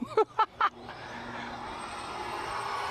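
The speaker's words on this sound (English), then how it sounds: "RC car coming at you." A roughly 50-pound Losi 5IVE-T 3.0 large-scale RC car racing at nearly 60 mph: a few short bursts, then a steady, loud rushing drone that swells as the car closes in.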